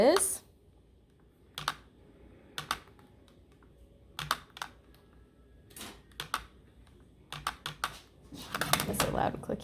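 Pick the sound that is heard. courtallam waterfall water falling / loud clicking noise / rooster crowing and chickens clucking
loud clicking noise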